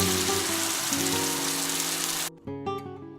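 Chili paste sizzling in a hot wok for chili crab, a dense, loud rain-like crackle with a steady hum underneath that cuts off abruptly after about two seconds, followed by brief scattered spits and clatter.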